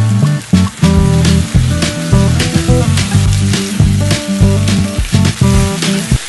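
Ground tomato masala paste roasting in a pan, with a steady loud sizzle and frying crackle broken by stirring scrapes, heard close up.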